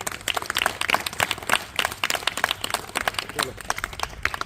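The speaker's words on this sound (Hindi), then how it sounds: "एक बार फिर से इनसे जोरदार तालियां" Clapping from a small group at a yoga camp, made of distinct, uneven hand claps over a few seconds, fairly close, with voices mixed in.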